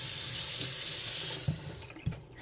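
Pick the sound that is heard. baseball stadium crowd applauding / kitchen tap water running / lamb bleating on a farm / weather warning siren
kitchen tap water running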